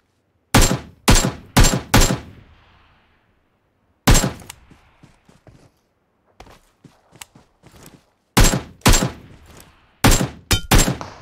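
Loud, close gunfire from a PUBG Mobile battle: rapid bursts of three or four sharp shots, a pause with faint scattered clicks and thuds, then another burst near the end.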